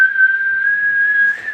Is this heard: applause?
no